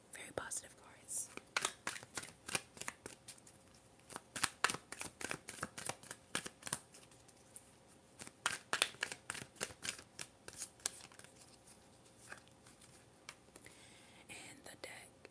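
A tarot deck is shuffled during a quiet ASMR reading, producing crisp, close riffling and tapping bursts in quick clusters with pauses between them, under soft whispering.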